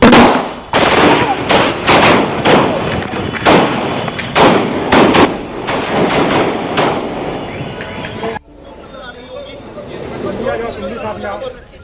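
Loud gunshots ring out in rapid, irregular bursts amid shouting voices, then the shooting stops and muffled, distant commotion continues.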